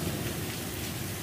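Heavy rain pours down at night on a soybean farm during harvest, a dense, constant roar of drops hitting surfaces, loud and close, with no voices.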